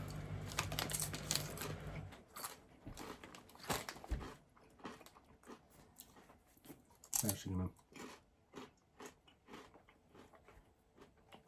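Crunchy gingerbread-flavoured tortilla chips being chewed close to the mic, with irregular crisp bites and crackles spread throughout.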